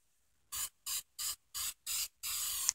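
Spray paint can hissing onto canvas in six short bursts, the last one held longer, each a crisp close-up airy spray separated by near silence.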